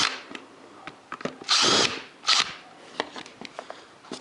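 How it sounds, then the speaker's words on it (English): A power drill bores hinge holes for a cabinet door using a Multi-Jig, with short loud whirring bursts mixed with clicks and handling clatter nearby. "Drill."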